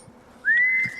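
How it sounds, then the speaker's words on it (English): A single sustained whistled note from a movie scene, rising briefly then holding steady at a loud level for about half a second before fading, with faint room noise around it and no talking. "Whistling."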